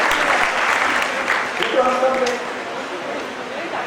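Applause from a Bihar ceremonial audience greeting Nitish Kumar and Anand Kumar of Super 30, a steady clapping wash lasting the whole stretch, with a voice and some tonal sound riding over it in the middle.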